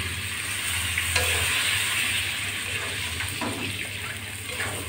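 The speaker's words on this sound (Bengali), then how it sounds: "আলুর ভিতর একটু জল দিয়ে দিচ্ছি" Water poured into potatoes cooking in a hot pan, making a steady loud sizzle and hiss with a brief splash and a few stirring scrapes, close by.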